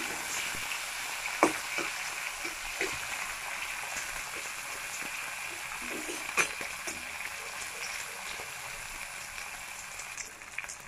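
Chopped tomato and onion fry in hot oil with garlic and cinnamon for a katla fish and ash gourd curry, a steady close sizzle throughout, broken by occasional scrapes and knocks of a stirring spoon against the pan.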